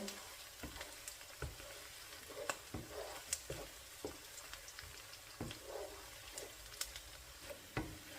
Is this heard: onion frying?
yes